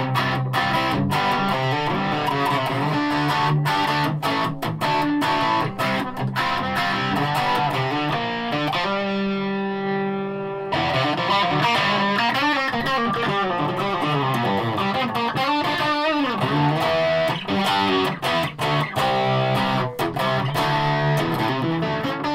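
A Gibson Les Paul 50s Tribute electric guitar plays through drive with the reverb off, producing dense distorted chords and riffs with sharp, choppy attacks and a sustained ringing passage midway.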